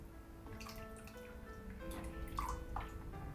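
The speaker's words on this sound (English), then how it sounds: "Pour 10 cups of water." Water trickles and drips steadily into a Bosch filter coffee maker's water tank, a soft splashing pour with small bubbling accents.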